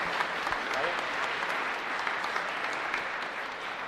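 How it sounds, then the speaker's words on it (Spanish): Steady applause from a church congregation for the godparents at a baptism during Mass at Parroquia San Miguel Arcángel, San Lorenzo, sustained and even throughout, moderately distant. "Un fuerte aplauso para los padrinos,"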